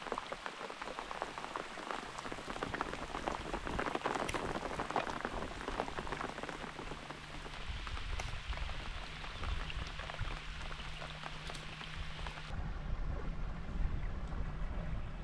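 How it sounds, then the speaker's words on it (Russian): Summer rain falls steadily on river water, a dense, continuous patter of drops close by and fairly faint, with no talking. "Мы не смогли отказать себе в удовольствии помокнуть под летним дождем"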